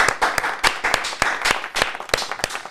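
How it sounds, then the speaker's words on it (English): A small group claps for podcast guest Heaven Arespacochaga at a season finale, with sharp, scattered individual claps close by in an uneven burst that carries straight through without any voices. "Solid yung palakpak na yun ah"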